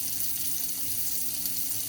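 Water running from a tap in a steady, even hiss of flowing water, constant and unbroken for the whole stretch, no voices.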